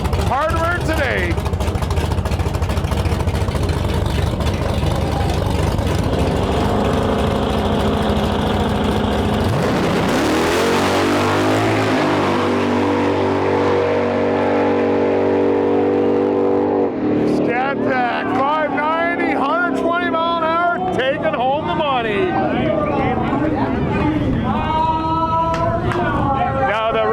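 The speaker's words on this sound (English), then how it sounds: "We have the Dodge Scat Pack up against the Mustang GT." Dodge Scat Pack making around 1,200 horsepower drag racing a Mustang GT at a no-prep shootout, loud engines roaring and revving with a rising surge midway, then a crowd and announcer talking over the fading engine noise.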